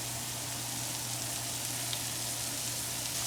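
Cauliflower fried rice, made with riced cauliflower, sizzles in a pan with sesame oil, giving a steady, close hiss of frying that runs evenly throughout with no talk over it.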